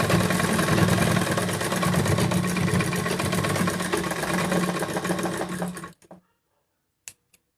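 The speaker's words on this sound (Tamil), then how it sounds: "இப்போ என்ன பண்ணுறோம், தையல் போட்டுக்கலாம்." A sewing machine stitches a cloth face mask in a continuous loud, rapid mechanical whir for about six seconds, then stops abruptly, followed by a couple of brief clicks in near silence.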